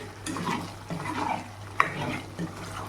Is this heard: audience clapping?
no